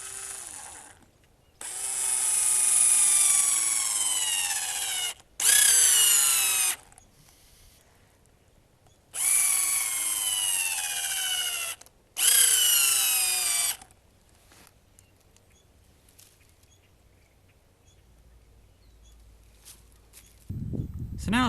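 A power drill drives screws into battery terminals for a solar setup, several loud close whirring bursts a few seconds each separated by short pauses, the motor pitch sliding as it spins up and slows.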